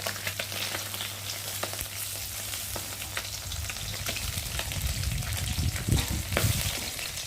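Pieces of fish fry in hot oil with a steady sizzle broken by frequent crackling pops, plus a low hum and some clattering of a utensil toward the end.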